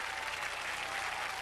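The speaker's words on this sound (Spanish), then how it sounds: "Aquí está Don Brad Byers, el aplauso para él." Audience applause for a performer at a stunt show, a dense, steady wash of clapping hands that fills the whole moment without pause, with no voices heard.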